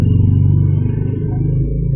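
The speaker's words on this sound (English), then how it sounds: "There's a lot of motorcycles and cars going around." Motorcycles and cars pass on a noisy street, a steady close engine rumble with a sputtering, pulsing drone that holds across the whole stretch without a break.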